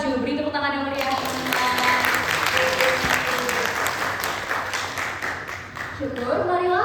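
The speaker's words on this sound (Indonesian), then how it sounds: "Beri tepuk tangan yang meriah." Audience applause welcomes a class 11 school drama performance, dense, sustained clapping filling a hall, with a voice talking over the start and the end.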